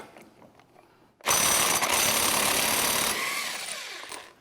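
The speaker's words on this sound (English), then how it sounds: "Now we're going to remove the nut holding the hub on." An impact power tool loosens the axle hub nut on an ATV, a loud, close, sustained rattling hammer burst that kicks in suddenly after quiet and winds down slightly at the end.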